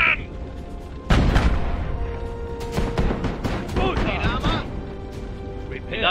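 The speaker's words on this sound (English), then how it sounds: "A lightning cannon!" A heavy boom bursts out as a lightning cannon fires in the strategy game Iron Harvest, followed by crackling blasts and zapping energy shots amid battle noise and voices.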